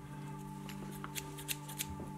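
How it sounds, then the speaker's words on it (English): Scissors snip through a paper pattern laid out for a woodcarving accessory, a few quick, faint cuts over a steady background hum. "use your scissors"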